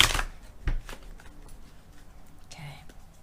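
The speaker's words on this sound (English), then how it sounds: "Let's do a shuffle once more." Tarot cards are riffled in a brisk shuffle, a crisp close flutter at the start followed by softer card handling and light taps, with a faint voice.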